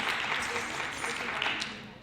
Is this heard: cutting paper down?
no